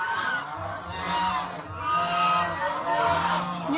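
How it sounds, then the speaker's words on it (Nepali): Ducks or geese kept at a Hetauda ashram honk loudly and repeatedly in a steady, overlapping chorus close by, with a few voices faintly in the background. "यहाँ चाहिँ हाँसहरू पनि राखेको रहेछ"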